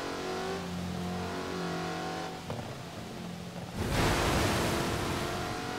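A Maserati sports car engine in the racing game Forza Horizon 4, a sustained droning hum that dips briefly and then swells into a louder, rougher rev, continuous and close.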